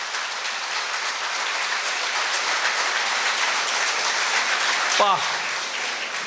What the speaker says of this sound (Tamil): கைத்தட்டலை நம்ம கொடுக்கணும்.